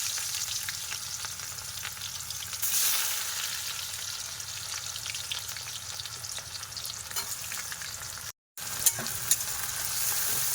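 Chopped onion frying in oil over caramelized sugar in a rural Sundarbans village kitchen, for mutton and rohu fish dishes: a loud, steady, dense sizzle that swells briefly early on and cuts out for a moment near the end, with no talk.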